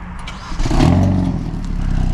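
A 2023 Hyundai Elantra N with dual exhaust starts up close by: a brief crank, then the engine catches with a rising low rumble and settles into a steady, moderately loud idle.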